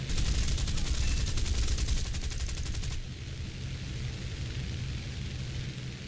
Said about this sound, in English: I'm gonna shoot this guy first.